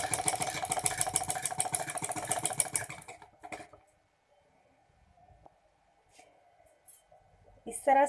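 An electric sewing machine stitches lawn fabric in a fast, close whirring run of about three seconds. It then stops, leaving quiet handling sounds, and someone speaks briefly over it.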